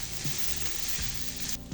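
Diced onions fry in a pan, a steady close sizzle with crackling and occasional stirring scrapes, cooked until golden for a pirozhki filling.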